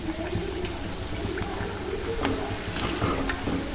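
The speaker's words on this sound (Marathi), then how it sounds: "छान असा गोल्डन कलर येईपर्यंत तळून घ्यायचे" Bhaji fritters deep-frying in oil until golden, a steady bubbling hiss close by with a few brief scrapes and clinks over it.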